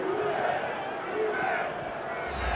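Dense, steady roar of a large Cheltenham racecourse crowd cheering after the 2012 World Hurdle at the Cheltenham Festival, a continuous wash of voices with a commentator talking over it.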